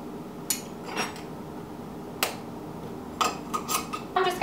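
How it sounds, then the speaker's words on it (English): A whisk clinks against a bowl while dry cake ingredients such as nutmeg and ginger are mixed, giving a few scattered metallic taps and scrapes, close and fairly quiet. "I'm just gonna whisk all of this together"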